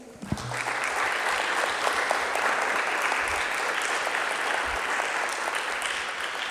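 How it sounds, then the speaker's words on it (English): An audience claps for candidates at the end of a 'Meet the Candidates' debate, a full, dense round of applause that swells quickly after a brief start and holds steady for several seconds. "Let's give these guys a round of applause, please."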